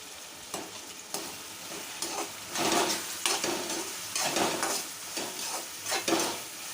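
Hakka noodles frying in a pan while soy sauce and tomato ketchup are stirred in, a close sizzle with repeated scraping stirs coming in irregular bursts.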